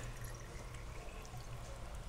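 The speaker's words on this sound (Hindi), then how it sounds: "अब इसमें पीने वाला पानी देते हैं" Drinking water pours steadily into a smart water bottle, a continuous close, fairly loud stream of liquid with no voices.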